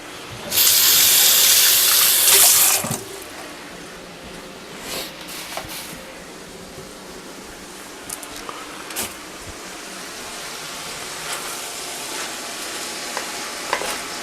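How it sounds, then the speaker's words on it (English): Hands rinsed under a running kitchen tap: a loud rush of water for about two seconds, then quieter kitchen clatter and soft scrapes follow. "So let me give my hands a little rinse."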